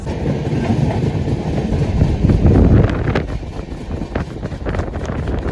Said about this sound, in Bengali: ট্রেনটা ছিল 22504 বিবেক এক্সপ্রেস, যেটা ডিব্রুগড় থেকে কন্যাকুমারী যাচ্ছে।